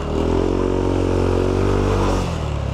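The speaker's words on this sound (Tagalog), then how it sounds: "Mas tumaas yung rev ng makina." A Yamaha Aerox v1 scooter engine revving up, a loud, close, sustained drone whose pitch climbs, then drops away as the throttle eases near the end.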